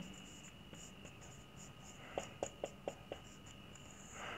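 Marker or chalk writing on a board during a worked stepping-stone transportation problem, with soft scratching and a quick run of five sharp taps or strokes midway, near and fairly quiet with no talk over it.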